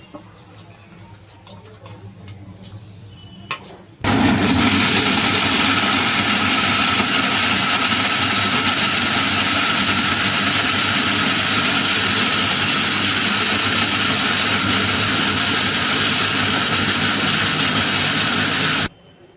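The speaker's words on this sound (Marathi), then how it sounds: "मिक्सरला लावून घ्यायचं" An electric mixer grinder blends coconut, ginger, garlic, chilli and onion into a masala. After a few quiet seconds it switches on to a loud, steady whirring roar that holds for about fifteen seconds, then cuts off abruptly.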